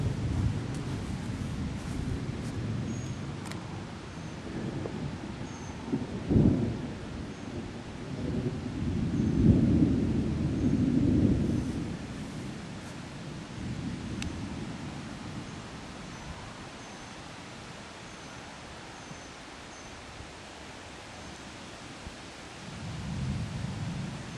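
Rolling thunder rumbles through a steady wash of rain and wind as a black storm front moves in, with several heavy swells of thunder rising and fading over nearly half a minute, no voices.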